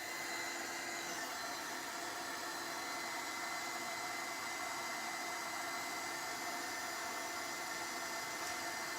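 A heat tool drying paste during a camera makeover, blowing with a steady, loud, unbroken whooshing hum that holds constant from start to finish, with no talking.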